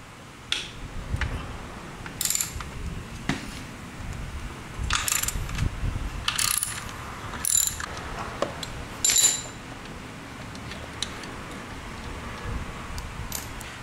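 A ratchet fitted with a 1/2 inch socket works a bolt loose on a motorcycle during a frame slider install, giving short bursts of metallic clicking spaced a second or two apart, close by with no voices.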